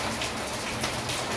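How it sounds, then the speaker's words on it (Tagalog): Heavy rain pours down hard and steady, a dense, constant hiss of drops drumming on surfaces, loud and close with no voices. "lumipat na ako dito sa loob kasi sobrang lakas ng ulan"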